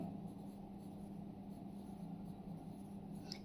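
Pen or marker scratches steadily while a table heading is written on a sheet. The writing is faint and continuous, with a low room hum underneath and no talking.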